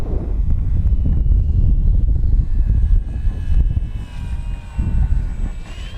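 An FMS P-51 Mustang Racers RC warbird flies overhead on a steady engine drone, rising and falling slightly as it passes, with gusts of wind buffeting the microphone throughout.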